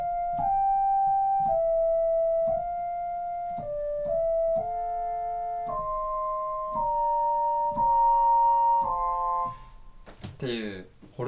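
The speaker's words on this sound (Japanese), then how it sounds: "ホルンの音が出てくるんですね。" A Roland RD-2000 synthesizer French horn voice plays a slow series of mellow, sustained notes, each one clearly separated, before a short burst of voice at the end.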